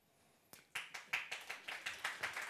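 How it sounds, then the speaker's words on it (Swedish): One person applauding alone in a quiet studio, about ten sharp claps in a steady, slightly uneven rhythm, fairly close and moderately loud, with no talk over them. "Var Lars Ohly som applåderade."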